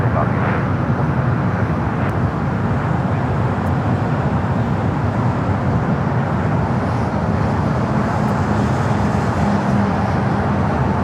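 A jet airliner takes off from runway 25 right at Los Angeles International Airport, giving a continuous, even engine roar at a distance with road traffic noise mixed in.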